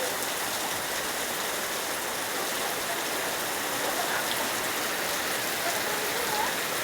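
Heavy rain pours down without a break during a stretch of nearly three weeks of constant rain, a dense, steady hiss that fills the whole moment evenly from start to finish.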